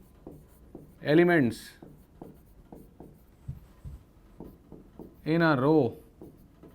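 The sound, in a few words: writing on a board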